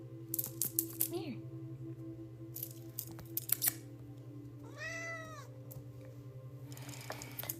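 A pet cat gives a short meow near the middle, close but brief, against a quiet background hum with scattered small clicks and handling noises.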